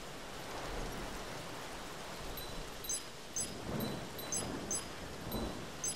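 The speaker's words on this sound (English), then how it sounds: "I don't know why people consider rain to be scary. I actually like the rain." Rain falling in the video game Costume Quest, a steady soft hiss with light scattered ticks and faint low rumbles, and no talking.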